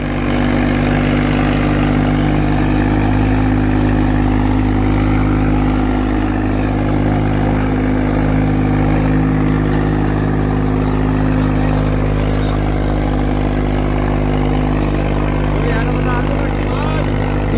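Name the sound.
Swaraj tractor engine working in a field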